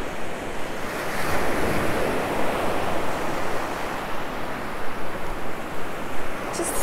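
Ocean surf on Sanibel beach, waves washing and rushing continuously up close, loud and broad, with wind buffeting the microphone.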